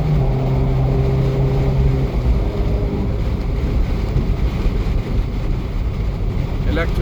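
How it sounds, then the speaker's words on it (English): An Abarth 595c MTA fitted with a Record Monza stage 2 exhaust drives along, giving a loud, steady engine and exhaust drone mixed with rushing wind noise throughout. "That Abarth makes all kinds of good exhaust, but I really like the Record Monza the most."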